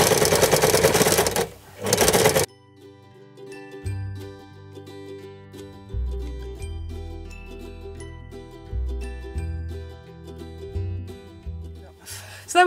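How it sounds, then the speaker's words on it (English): A domestic sewing machine stitching a piped seam with a piping foot, heard in loud, steady whirring runs near the start and end, with softer mechanical hums and clicks between them and no talk. "you carry on sewing like a normal seam, but making sure that the piping is always in the left hand bit of the piping foot"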